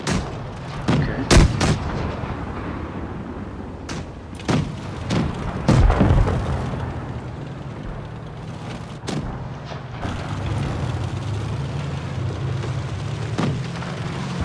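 Tank cannon fire and explosions in the video game World of Tanks Blitz, several heavy booms and sharp shots in the first half, then a steadier rumbling background of battle.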